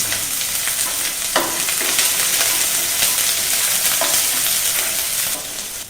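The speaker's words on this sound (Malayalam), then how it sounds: "അപ്പോൾ ഉള്ളി ഒരു ലൈറ്റ് ബ്രൗൺ കളറാകും വരെ ഇളക്കിക്കൊണ്ടിരിക്കും." Chopped onion sizzles steadily in hot oil for Indian Coffee House style masala dosa filling, with a few sharp scrapes and taps of a spoon as it is stirred, loud and close throughout with no voices.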